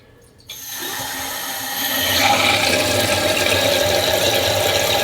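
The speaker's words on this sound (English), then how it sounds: "turn the water on slowly so we don't splash anything" Water rushes into a toilet tank after the supply is reopened during a running-toilet valve repair, a steady close hiss and gurgle that swells louder after a soft click and keeps filling.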